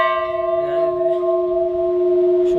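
A single loud strike of the bell at Kalpeshwar Mahadev temple rings out and hums on with a steady, sustained metallic tone that slowly fades.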